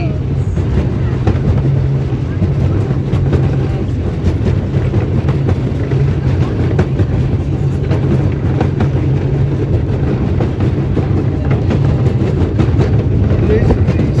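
A park miniature railroad's diesel locomotive runs steadily, its low engine drone continuous and close, mixed with wind buffeting and rolling rumble as the ride moves along.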